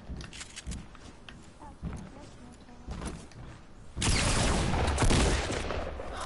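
Rapid gunfire from a battle royale video game, scattered shots early on and then a dense, loud burst of shooting in the final seconds, with a player talking over the action.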